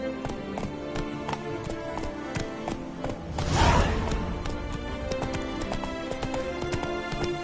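Roach the horse galloping in The Witcher game, a quick rhythmic clip-clop of hooves at steady pace with a brief louder whoosh midway, over faint background ambience.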